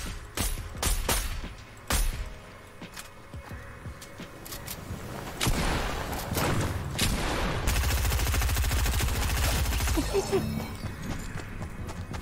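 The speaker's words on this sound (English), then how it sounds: "I actually like this shotgun." Shotgun blasts in Fortnite: several sharp, loud shots in quick bursts, followed by a dense, sustained stretch of rapid gunfire and clattering action.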